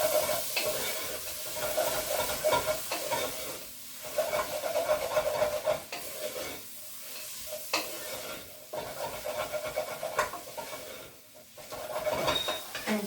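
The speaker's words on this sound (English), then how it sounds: "So stir that up." A spoon stirs chicken, chickpeas and spices in a pot of tagine, scraping and clattering in irregular strokes over a steady sizzle of frying, with no talking.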